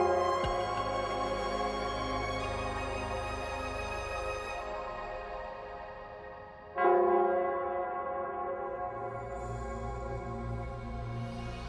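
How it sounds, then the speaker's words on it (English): A resonant bell in the video game Wuthering Waves tolls with long ringing overtones that slowly fade, then a second strike near the middle rings out again and sustains, heard alone without talk. "It's the bell."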